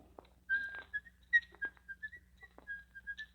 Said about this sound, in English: And don't whistle.